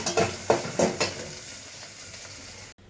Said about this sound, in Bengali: পেঁয়াজ আর রসুন একটু আদা হলে ভালো হতো